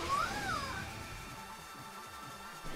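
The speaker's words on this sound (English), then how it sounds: "I like how the cat talks." A cat in the video game Judgement gives a single short meow at the start, a quick rising-and-falling cry. It fades into a low, quiet background for the rest of the moment.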